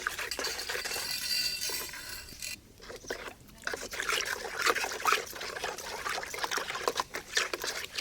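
A concentrated fermented liquid made with a liver-mushroom culture is poured, giving a steady, hissing trickle and splash that pauses briefly, then resumes unevenly with light scraping, close and without talk.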